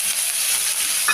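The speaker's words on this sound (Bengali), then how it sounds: "দিয়ে দিলাম কুচনো পেঁয়াজ আর কাঁচা লঙ্কা" Chopped onion and green chilli sizzling steadily in hot oil with mustard seeds, cumin and asafoetida, a continuous close hiss with no talk over it.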